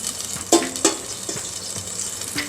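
Butter melting in hot oil in a pan for an Ambur-style paneer biryani, giving a steady close hiss and sizzle with a couple of louder spits and pops, no speech.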